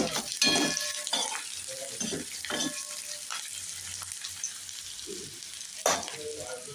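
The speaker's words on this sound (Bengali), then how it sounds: "আলু ঝিঙে পোস্ত করব, পেঁয়াজ দিচ্ছি, ওই জন্য একটুখানি পেঁয়াজটা ভেজে নিয়ে" Onion, potato and ridge gourd frying in a pan, a bright sizzle broken by repeated stirring bursts and scraping, with a small knock near the end.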